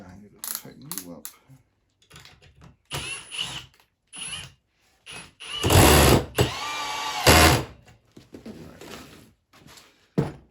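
A fastener is tightened on a wooden chair mock-up with a Phillips-head driver, giving short bursts of ratcheting, clicking mechanical noise between pauses, loudest near the end, with occasional speech-like sounds.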